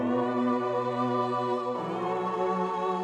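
A sustained synth pad on an MPC sampler beat holds steady, smooth chords with soft harmonic layers, shifting to a new chord partway through, with no talking.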